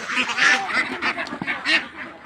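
Ducks quacking busily on a Bangladeshi farm with about 500 ducks and chickens, a flurry of overlapping nasal calls in quick irregular bursts, with no talking.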